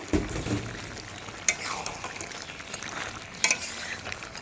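Soaked lentil fritters (bora) are turned in a pan of sizzling liquid, producing a soft steady frying hiss with two sharp spatula clacks against the pan, close and fairly quiet.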